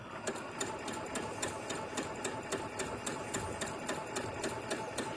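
A sewing machine stitches thin, light fabric for a small bath tea sachet, a steady rapid mechanical chatter with regular needle clicks, close and even, with no talk over it.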